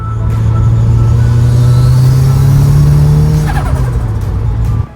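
A Ford Sapphire RS Cosworth engine idles steadily and loudly up close, with a smooth low hum that holds even, no misfires, then cuts off abruptly at the end.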